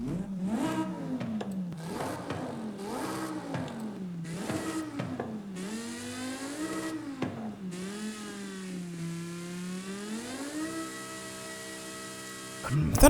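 Supercharged V10 from a BMW M5/M6 in a racing video game, revving repeatedly in rising and falling sweeps with a whining tone, then settling into a long steady climb and a held high pitch.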